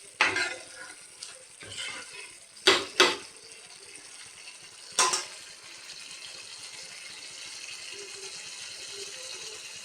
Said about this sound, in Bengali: পুরো মশলাটা ভেজে নেব।